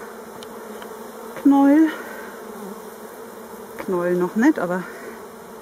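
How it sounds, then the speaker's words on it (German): Agitated honeybees at a Warré hive, a steady close drone with sharper rising buzzes as bees fly near, while someone speaks German briefly over the buzzing. "sehr irritierte Bienen"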